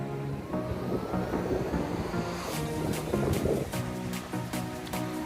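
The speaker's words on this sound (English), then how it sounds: "the sound what you hear is of the beach," Ocean waves wash onto Tofo Beach in Mozambique, a steady broadband roar of surf with brief louder surges, fairly close and unbroken, with some wind buffeting and no voices.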